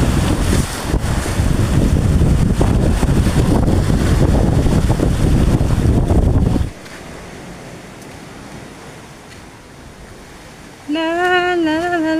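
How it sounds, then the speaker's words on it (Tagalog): Sea waves and wind rush loudly past a boat off Dumangas, Iloilo, a dense roar for several seconds that suddenly drops to a quieter wash, before a voice speaks near the end. "Yan yung alon guys"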